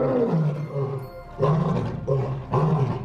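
A trapped lion roars for help in three long, loud, deep calls, close up and alone, each rising then fading with short pauses between.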